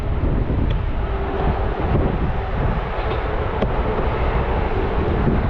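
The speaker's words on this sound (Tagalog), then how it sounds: "Malakas yung hangin na yan." Strong wind buffets the microphone in a constant, loud roar of rushing noise with no pauses, outdoors while fishing nets are set up.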